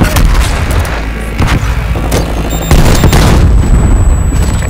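A Semtex grenade goes off in Black Ops Cold War: a loud, close, deep blast sits among dense overlapping gunfire and booms, and the rumble carries through to the end.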